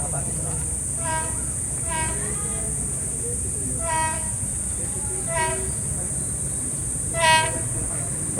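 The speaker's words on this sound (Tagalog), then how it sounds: "Parating na ang tren." A PNR train sounds its horn in several separate blasts as it approaches Calamba Station, over a low rumbling of wheels on rails, with a high steady whine running throughout.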